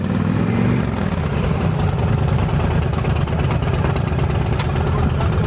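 Several sportbikes from a New York club sit idling in a restaurant parking lot before a group ride, making a steady, dense low engine rumble with no break.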